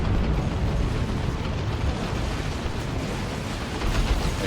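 An Ork Mega Rumbler detonates in a Warhammer video game battle, a continuous loud, broad roaring rumble of explosion that fills the whole span without breaks.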